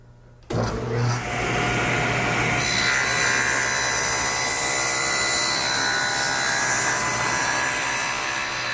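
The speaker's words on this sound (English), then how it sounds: "I mill up a long piece of tenon stock that is the proper thickness and just about the right width." A power tool bites into wooden tenon stock for router joinery and holds a loud, sustained whining cut close by. It starts abruptly after a short quiet lead-in and runs without talk.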